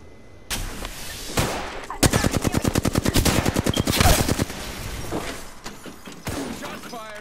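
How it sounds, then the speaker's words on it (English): Rapid automatic gunfire in the video game Apex Legends, a loud sustained burst of evenly spaced shots preceded and followed by scattered single impacts and clatter, close and dominant with no talk. "Shots fired and they're hitting me."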